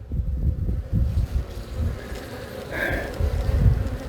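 Honeybees buzzing around an open nuc hive during an inspection, a close, wavering drone with gusts of wind noise on the microphone and a few brief higher whines from bees passing near.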